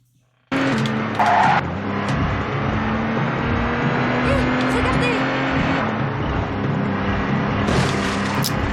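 A car races and skids in The Getaway video game, its engine roaring loud and steady after a sudden start, with a sharp tire squeal early on and brief scrapes near the end.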